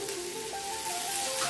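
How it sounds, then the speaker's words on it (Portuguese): Steak going into a pan with clarified butter, a loud, close, steady sizzle that swells slightly as the meat settles, with a few faint tonal squeaks on top. "Vamos colocar minha carne."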